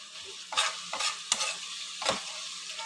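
Spice masala for gandharaj chicken being stir-fried in a pan, with four distinct scraping stirs at irregular intervals over a low, steady sizzle, close and fairly loud.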